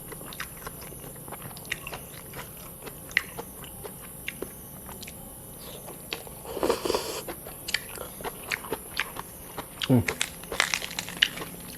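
Crispy, dry pork cracklings served with a spicy Lao-style papaya salad and rice noodles are chewed near the mic, giving repeated crunchy bites and crinkling over a steady background hiss, with a voice speaking briefly in between.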